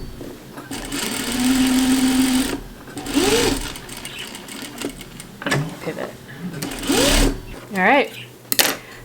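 A domestic sewing machine stitches fabric pieces for an 18th-century dress bodice in quick mechanical bursts, pausing at each corner where the needle stays down and the work pivots before stitching resumes, with a voice talking over it.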